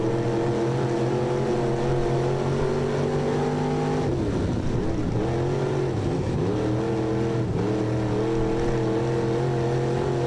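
Race cars at the start of a heat race at Maquoketa Speedway roar loudly from close by, their engines holding a steady drone, then dipping and rising again as they rev and shift through the start.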